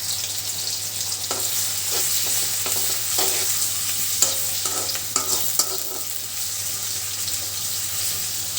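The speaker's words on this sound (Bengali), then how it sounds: "তেলটা গরম হয়ে গেছে, দিয়ে দিচ্ছি পেঁয়াজ কুচি।" Chopped onions go into hot oil and fry with a steady, close sizzle while a spoon knocks and stirs against the pan in intermittent clicks. Nobody speaks.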